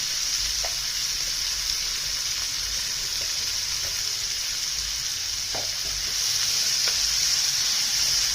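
Chopped onions fry in oil with garlic for a prawn masala, a steady bright sizzle running throughout with occasional stirring clicks and scrapes, close and fairly loud, with no voices.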